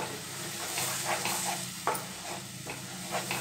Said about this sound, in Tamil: இதை சேர்த்து அப்படியே கைவிடாமல் கிண்டிக்கிட்டே இருக்கலாம்.